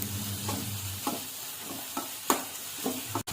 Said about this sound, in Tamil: மிதமான தீயில கொஞ்ச நேரம் வதக்கலாம். தக்காளி நல்லா மசிகிற பதத்துக்கு வரணும்.